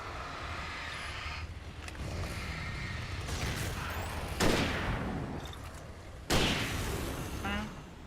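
Rifle gunfire in the Alan Wake video game, a few sharp separate shots standing out against a rumbling background, each one a sudden loud crack with a short tail.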